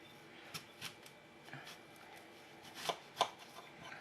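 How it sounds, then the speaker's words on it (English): A knife cuts food into slices on a table in a series of soft, irregular taps, with two sharper cuts near the end, quiet and close. "Alright, cut more slices."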